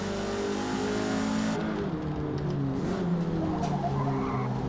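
Race cars lap the Nurburgring circuit in the Forza Motorsport game, with a loud, close engine drone, revving and tire squeal and skidding as the cars corner.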